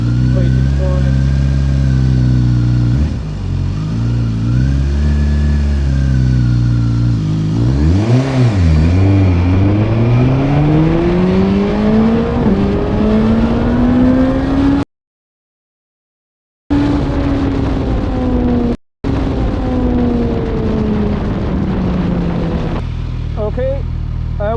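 Suzuki GSX-S1000GT motorcycle on a 0-60 mph acceleration run: loud, close engine roar climbing in pitch through several gear shifts, with brief cuts and a rider talking over it.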